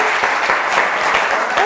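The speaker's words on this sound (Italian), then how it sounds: "fatevi un applauso" Studio audience applause breaks out during a televised quiz show between two town teams, Fogliano Redipuglia and San Martino al Tagliamento, a brief, loud burst of many people clapping.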